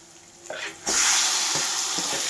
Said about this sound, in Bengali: এবারে এই টামটুমটাকে আমি ভালোভাবে ভাজবো